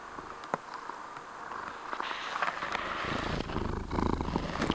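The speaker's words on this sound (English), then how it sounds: "in the headphones here at least I can hear a little bit of purring when I'm close" Tuco the cat purring right against the microphone, a low continuous rumbling purr that swells louder in the second half, close and steady with a few small bumps and clicks, no talking.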